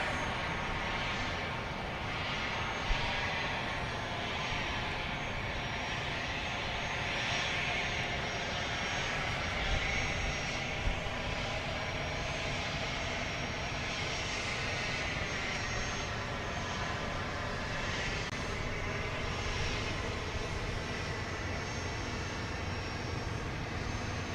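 A Southwest airliner takes off at Dallas Love Field at night, a loud sustained jet engine roar that fills the whole stretch, steady and broadband as the aircraft powers down the runway.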